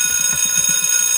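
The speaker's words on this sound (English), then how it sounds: "Bell." A bell rings in a rapid, continuous electric trill, loud and close, running steadily for just over a second like a school or alarm bell.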